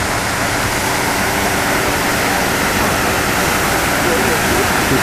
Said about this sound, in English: These fountains in the front.